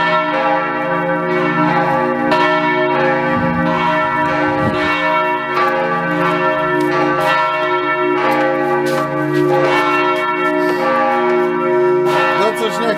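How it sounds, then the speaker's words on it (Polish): Church bells ring from a bell tower in Poznań, loud, steady and continuous, with rich overlapping tones sustaining throughout. "jak słychać, dzwonnica nawołuje"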